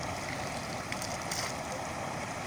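Steady rushing of river water flowing toward the nearby sea, a broad continuous wash with no talking.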